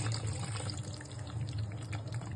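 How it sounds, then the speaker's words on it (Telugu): Water is poured into a pot of mutton curry cooked with fenugreek leaves, making a soft, continuous splashing trickle under a low hum, fairly quiet and with no voices. "మీరు తగినన్ని వాటర్ పోసుకోండి"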